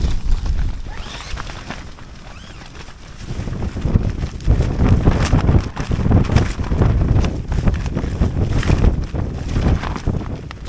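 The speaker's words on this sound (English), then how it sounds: "Oh, blimey, it's so windy here." Strong gusty wind buffeting a Durston X-Mid tent at a wild camp on moorland at Margery Stones, roaring loudly against the microphone and swelling into heavier gusts partway through.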